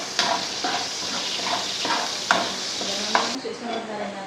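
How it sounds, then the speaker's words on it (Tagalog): Garlic sautéing in a frying pan for a monggo (mung bean) dish: a steady, close hiss of sizzling oil broken by a few sharp scrapes of a stirring utensil. "igisa na natin itong bawang."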